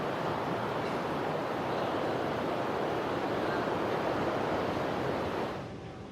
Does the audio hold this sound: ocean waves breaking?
yes